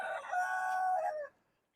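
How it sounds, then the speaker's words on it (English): A young rooster gives a single short crow lasting about a second, close and fairly clear, with no other sounds around it. "That's a little Cosmo Junior Crow"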